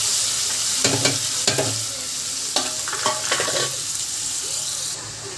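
Curry leaves and green chillies drop into hot oil for an ivy gourd curry, setting off a close crackling sizzle with a few sharp spattering bursts and stirring. The sound eases toward the end.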